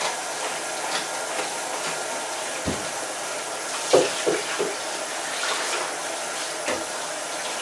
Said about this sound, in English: Rinse off the outside of this good. It's had some fixer splashed on it.